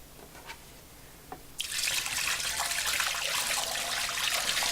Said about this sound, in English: I'm going to use a bucket of water.